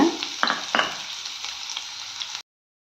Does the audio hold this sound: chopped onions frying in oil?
yes